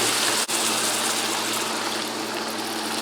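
Water pours into a cooking pan with salt and soy sauce for mapo tofu, a continuous rushing hiss, close and even, after a brief click near the start.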